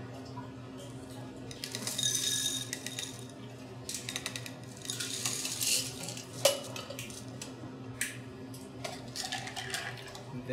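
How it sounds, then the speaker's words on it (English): A shiso leaf pressed into a cocktail glass of crushed ice, with clinks and scrapes of a metal utensil against glass and ice, irregular knocks and a sharper tap amid quiet bar room noise. "We're gonna drop it inside into the glass, press it into the glass."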